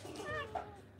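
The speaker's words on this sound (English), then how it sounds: "Oh my god, there's cats everywhere." A single short cat meow, fairly faint, with a quick rising and falling tone.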